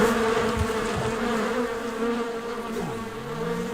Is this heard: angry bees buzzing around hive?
yes